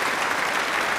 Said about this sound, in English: Give me an applause, guys.